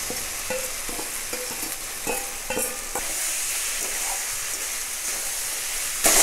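Vegetables with turmeric, peas and a little sugar fry in a pan, with rhythmic spatula stirring strokes at first, then a constant close sizzle.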